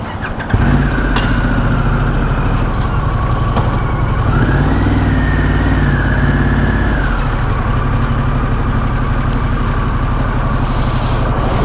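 A new motorcycle, about two weeks old, idles with a steady close-up engine rumble that rises briefly in pitch midway through, then settles back to a constant idle with no talking.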